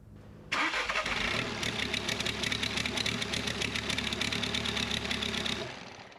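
An Audi A3 TDI diesel engine cranks and roars to life abruptly, then runs loud and rough with a rapid knocking rhythm before cutting off at the end.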